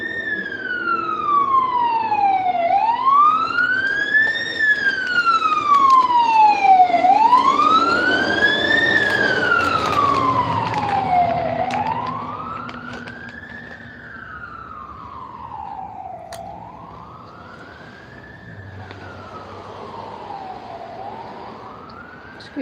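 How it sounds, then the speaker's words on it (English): An emergency vehicle siren wails, sweeping up and down in long slow cycles, loud at first and then fading as it moves away, with faint traffic underneath. "Wait for the siren to go by."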